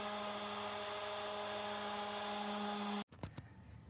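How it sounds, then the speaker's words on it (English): A continuous whirring power sander hums steadily for a few seconds on an epoxy tray surface, then cuts off, followed by a couple of short scraping and knocking sounds. "So let's get to sanding."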